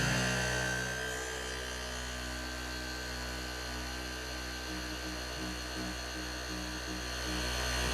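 A polishing pad on a powered buffer whines steadily across an oxidized car headlight, a continuous close motor hum with no pauses.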